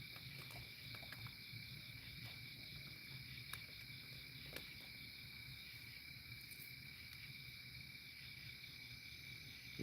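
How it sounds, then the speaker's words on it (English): Crickets trill steadily at night, a faint, unbroken high-pitched chorus with a few tiny clicks scattered through it and no voices. "I just know that I'm listening to the crickets."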